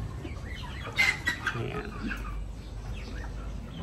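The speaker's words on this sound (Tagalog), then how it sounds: "kumakain na rin nga pala yung mga bibe at mga manok natin dyan" Ducks and chickens feeding on a small farm make soft scattered clucks and calls against a low, noisy outdoor background, with a brief spoken word near the start.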